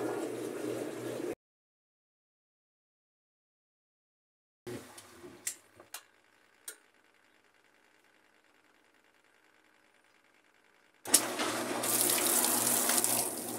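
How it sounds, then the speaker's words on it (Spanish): A restored Kenmore/Whirlpool mechanical automatic washing machine drains water before its final spin, a steady rushing flow in two stretches separated by near silence and a few clicks and clunks. "vamos a esperar que saque el agua y que haga el exprimido final para asegurarnos de que haya quedado bien armada la máquina"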